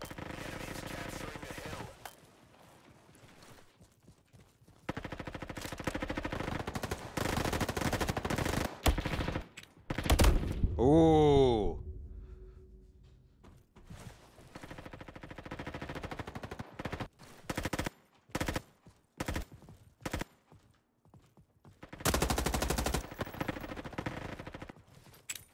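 M4 rifle fire in a Roblox shooter, delivered as repeated automatic bursts of varying length separated by pauses, loud and close, with a short descending whine partway through.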